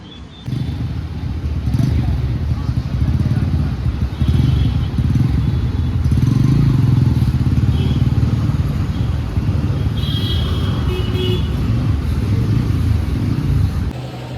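A motorcycle on a test ride, its engine rumbling and revving steadily close by for the whole stretch with some rattling clatter, and a voice talking over it at times.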